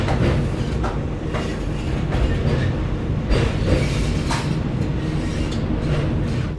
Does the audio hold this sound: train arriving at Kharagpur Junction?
yes